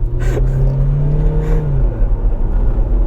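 A cheap used convertible bought for about £500 accelerates at full throttle from 0 to 60, its engine droning loudly inside the cabin with a rising whining tone over a constant road rumble.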